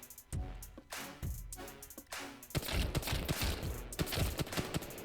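Rapid bursts of automatic gunfire in the Apex Legends video game, repeated volleys growing denser toward the end, loud and punchy.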